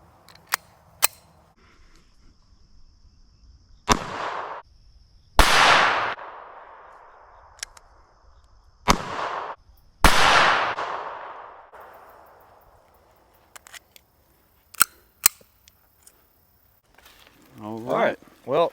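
A WWII German Walther PPK in .32 fires hollow points into pumpkins outdoors: several sharp, loud single shots spaced seconds apart, each followed by a long fading ring, with quieter clicks and handling noises between them.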